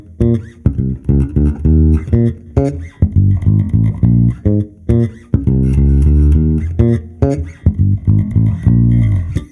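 An electric bass plays a riff with a light touch, the amp turned up to make up for it; the notes are smooth, even and sustained, up close in steady phrases, and nobody speaks.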